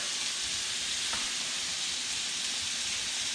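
Butter sizzling in a hot pan beside a triggerfish fillet, a steady bright frying hiss that stays even throughout, with one faint clink near the start.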